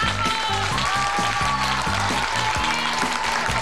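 Enthusiastic audience applause after a young girl's a cappella singing performance at a premiere, a dense steady wash of clapping over music with tonal lines, continuous and loud throughout.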